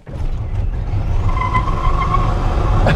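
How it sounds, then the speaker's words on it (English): Tesla-powered electric classic Mini spinning its tires under hard acceleration, a steady loud roar of tire noise and road rumble with a faint rising whine, heard close up. "It was just going to spin tires forever."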